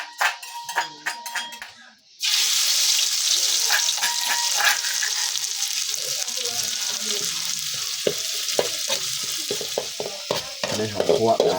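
Basil and bird meat are stir-fried in hot oil in a pan, giving a loud, steady sizzle that starts abruptly after a brief pause, with occasional stirring scrapes and a voice speaking early on.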